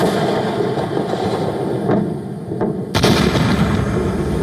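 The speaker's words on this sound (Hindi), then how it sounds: "धमाके में स्पेसएक्स कंपनी का फैल्कॉन 9 रॉकेट तबाह हो गया।" A SpaceX Falcon 9 rocket explodes on its launch pad during pre-launch testing, a sustained deep roaring blast with a sharp louder burst near the end, heard from a distance with no speech.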